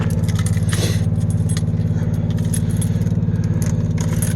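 Keys jingle at the ignition of a Ford Ranger diesel pickup on a cold day, bright metallic clinks scattered over a steady, rhythmic low clatter that runs throughout.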